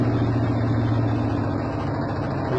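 An LG washing machine motor drones with a steady low hum and broad mechanical noise during the spin cycle, continuous and close, with no voices.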